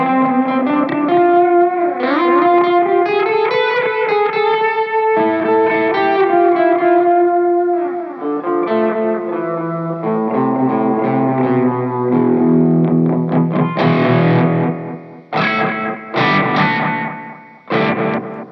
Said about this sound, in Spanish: Aunque ya solo con el delay ya aumentas bastante el espacio. Pero si quieres darle ese toquecito extra, mandas ahí tu reverb.